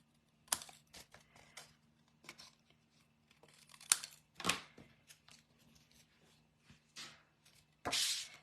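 Paper being trimmed with scissors while making a watercolour greeting card, heard as a close series of crisp snips and crinkly rustles separated by short quiet gaps.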